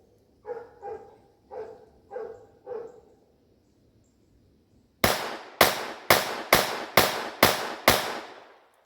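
A Ruger LCP II .22LR pocket pistol fires seven sharp, loud shots in quick, even succession, preceded by a few soft barks from a distant dog.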